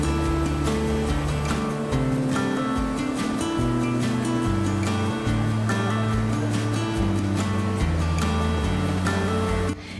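River flowing through Darband in Tehran, a continuous loud rushing wash of water that stays steady throughout, with low rumbling tones and scattered clatter mixed in.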